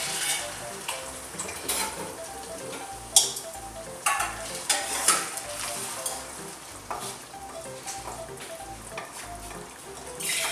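Mash dal sizzles while being fried and stirred in a pot, a steady crackling frying hiss broken by several sharp scraping clatters of a spoon against the metal.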